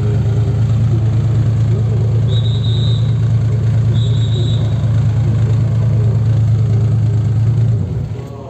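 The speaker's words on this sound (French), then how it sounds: "une Peugeot juste à côté qui arrive, barquette" A Peugeot barchetta, a replica of a Porsche race car, at the Classic Days 2020 event at Magny-Cours runs with a steady, loud, low engine rumble nearby, fading slightly at the end.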